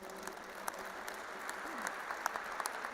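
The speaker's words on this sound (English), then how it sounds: "Give him a big applause." Audience applause at a 2022 World Interfaith Harmony Conference greets Ashok Joshi, a steady, fairly soft wash of clapping with a few sharper claps standing out and faint voices underneath.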